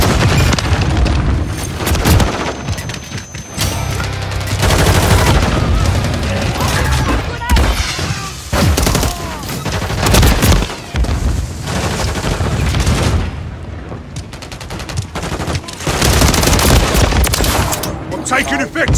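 Dense gunfire and explosions in the Call of Duty video game rattle almost nonstop, with loud bursts and booms layered over battle chatter and voices throughout.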